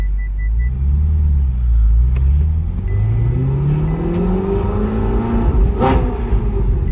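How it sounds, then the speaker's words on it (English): Deep V8 engine rumbling and revving through gentle pulls, pitch climbing and dropping, heard from inside the car. "you don't have to drive the car hard or fast to get that beautiful V8 sound"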